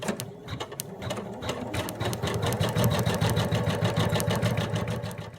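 An embroidery machine stitches a duck's eyes onto toweling under water-soluble topping, a rapid, rhythmic mechanical chatter of needle strokes with a steady motor hum, close and continuous.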